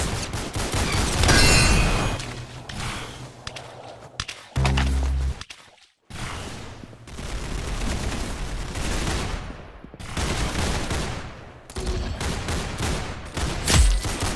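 Gunfire in the Roblox game Arsenal: repeated bursts of rapid shots and single cracks, loud and close, with short gaps between volleys and no voices.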